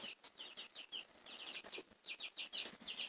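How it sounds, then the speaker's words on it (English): Many chicks chirp noisily indoors at night in a rapid, overlapping stream of high peeps, fairly close and steady throughout with no talking. "the chicks are really noisy tonight"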